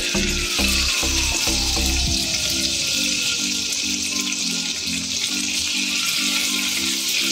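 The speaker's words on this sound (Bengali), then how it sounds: "এবার কাজু আর কিশমিশটা সাইড করার পরে ওই তেলেই আমরা পনিরগুলোকে ভেজে নেব" Paneer pieces frying in oil left from cashews and raisins, a loud continuous sizzle with a few sharp clatters at the start and a steady hiss carrying on alone.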